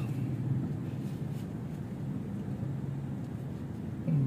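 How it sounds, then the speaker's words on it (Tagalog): A truck passes on a road, heard as a steady low rumble of engine and tyre noise, fairly loud and continuous throughout with a slight swell at the end. "Ay, may truck."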